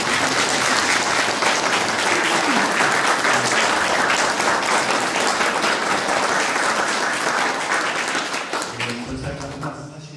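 A congregation claps loudly and steadily at a Presbyterian church's 25th anniversary and education hall dedication service, the dense applause filling the room before tapering off near the end, with a few voices mixed in.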